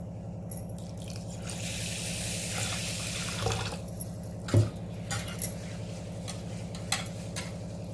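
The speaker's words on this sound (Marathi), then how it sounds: "आता अजून एक वेळ आपण याच्यात पाणी घालत आहोत" Water runs into a metal pot of rice for washing for a few seconds, then some clinks and clatter of metal against metal, over a faint steady hum.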